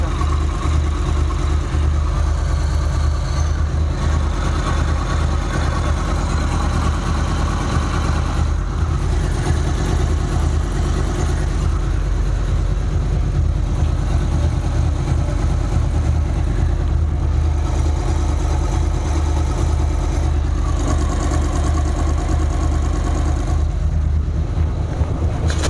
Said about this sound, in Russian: Моторчик работает.